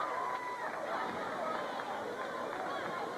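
Steady crowd hubbub fills a high school gymnasium at a boys' basketball game, Connellsville at Uniontown, with overlapping chatter and cheering voices, continuous and moderately loud throughout.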